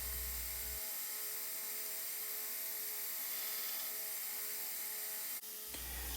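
A steady, continuous grinding whir of a power grinder shaping the choil area of a Damascus steel knife, loud and unbroken throughout with a brief dip near the end.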